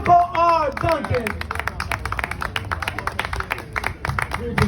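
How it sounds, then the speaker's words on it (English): Clapping from an outdoor crowd in Prospect Park, Brooklyn, at a rainy UNIA gathering, greeting a speaker; a voice is heard at the start, then a lively patter of hand claps continues under crowd murmur. "Please put your hands together and give him a round of applause."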